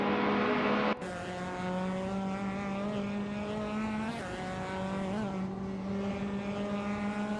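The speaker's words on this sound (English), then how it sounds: "Bot Empress is racing a 2006 Peugeot 308" Racing engine of a 2006 Peugeot 308 in a video game, a loud steady drone near and alone, rising and falling slightly in pitch as it holds speed, with a brief dip at one point.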